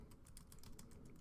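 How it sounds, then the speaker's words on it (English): Quick, light keystrokes patter on a computer keyboard in an irregular run of soft taps, faint and close with no talking. "I'm going to start by typing creative, or actually product description"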